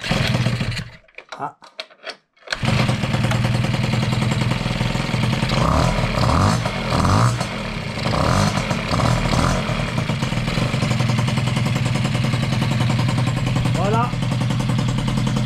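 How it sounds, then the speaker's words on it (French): A Piaggio Ciao moped fitted with a 65cc Polini kit and a new cylinder head fires up after a short quiet gap and keeps running loudly and steadily, a close buzzing two-stroke drone with a few revs, while someone speaks briefly at the start. "Ça démarre au quart de tour."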